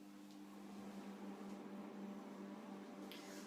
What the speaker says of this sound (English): I'm going to put them in a microwave for the maximum